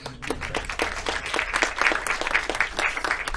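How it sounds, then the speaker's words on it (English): Audience applause at a GDC 2016 VR recap talk, a steady dense patter of many hands clapping throughout, fairly loud and close with no speech over it. "So now I'm gonna have to clap you out."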